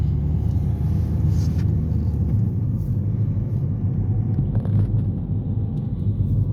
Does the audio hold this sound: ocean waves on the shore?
no